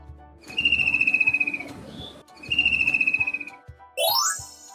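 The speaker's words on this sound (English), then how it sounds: "Hornbill." A hornbill gives two drawn-out calls, each a bright sustained note with a rapid pulsing beat, separated by a short pause and heard clearly with no talk, followed by a quick rising swoop.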